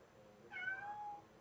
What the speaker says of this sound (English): let me let in my cat.